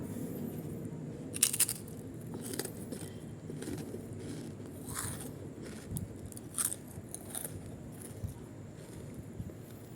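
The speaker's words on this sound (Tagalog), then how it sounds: "Titikman natin kung gaano kaluktong ang kangkong chips ni Jos Monica" Repeated crisp crunches of kangkong (water spinach) chips being bitten and chewed, close up, with irregular bites over quiet background.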